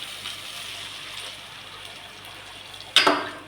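Water splashes into an aubergine curry (kharya vangyachi bhaji) cooking in a pan, a sudden loud pouring rush near the end after a quiet low hiss.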